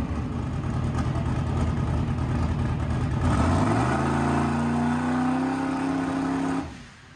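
A drag truck's carbureted engine builds boost against the transmission brake, its loud, steady drone rising in pitch and then holding high before cutting off sharply near the end, close and with no voices.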